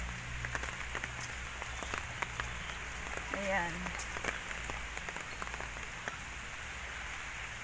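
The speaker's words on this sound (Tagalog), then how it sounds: "Malakas na ulan." Heavy rain pattering steadily on a surface in Hong Kong, with scattered louder drops hitting nearby and a brief voice heard over the constant downpour.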